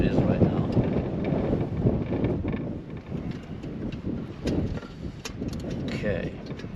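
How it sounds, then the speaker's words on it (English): Steady night wind buffeting a microphone outdoors, a low continuous rumble with occasional gusts and faint rustling. "It's rather windy tonight"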